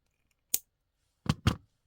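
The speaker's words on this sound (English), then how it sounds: "Taking the pliers, I'm going to fold that down, cut it down to 1/4 inch" Jewelry pliers snip a thin metal headpin wire: a single sharp click, then two quick close crunching cuts, in a quiet room.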